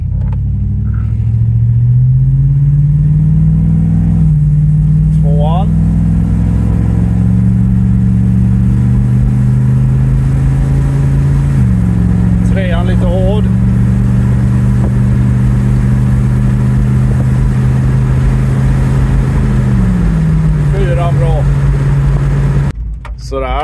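A car engine hums loud and close as the car pulls away and accelerates, the drone stepping up through gear changes, with voices speaking briefly over it.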